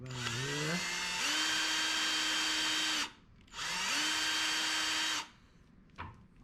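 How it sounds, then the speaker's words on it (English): A power drill bores a hole into a wooden cake server handle, its motor whining up to speed in two long runs broken by a short pause, then a brief knock at the end. "I have drilled out that hole and kind of carved it out so it's a nice line."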